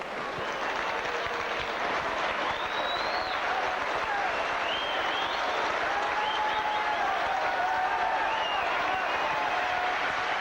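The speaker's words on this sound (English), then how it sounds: "David Tanner getting a rapturous applause as he comes over here to the dugout" A rugby league crowd at St Helens versus Sheffield applauds substituted player David Tanner, a continuous distant wash of clapping and crowd noise under a commentator's voice, with faint whistle-like tones drifting through.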